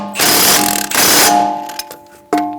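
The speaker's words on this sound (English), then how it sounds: "use a socket and a gun to snug down the nuts" Socket on an impact gun snugs down brake dust shield nuts on a 2007-2011 Toyota Camry front brake. A loud, close rattling burst lasts just over a second, followed by a few light metallic clicks.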